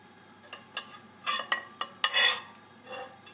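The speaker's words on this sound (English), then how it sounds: "And keep on stirring until the sauce slightly thickens." Milk sauce for lasagne, stirred in a pan over very low heat, making a series of close scraping and clinking strokes of a utensil against the pan in an irregular rhythm, with no voices.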